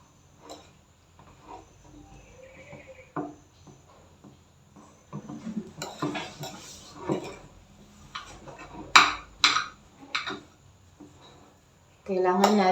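A serving spoon mixes mashed cassava with margarine in a bowl, giving soft irregular scrapes and clinks of metal against the dish, close and fairly quiet, with a louder clatter near the end.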